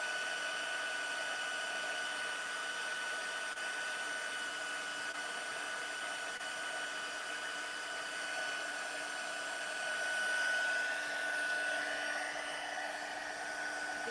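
Embossing heat tool running to melt embossing powder for a stamping craft, a steady close whirring blower hum with a thin whine, holding constant with a slight swell near the end, with no talk.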